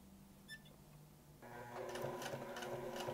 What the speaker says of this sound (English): From here, I sew down the various bits of the placket.